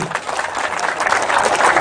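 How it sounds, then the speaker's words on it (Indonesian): People applaud during a demonstration of laying down a Bali cow for qurban slaughter, a dense continuous patter of clapping at steady loudness throughout. "Tepuk tangan."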